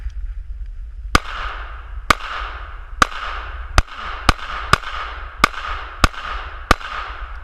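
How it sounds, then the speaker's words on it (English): Nine sharp pistol shots from a Smith & Wesson M&P 9 Shield ring out at an uneven, steady pace, each crack loud and close with a short echoing tail across an open range. "Let's shoot it some more and see what happens."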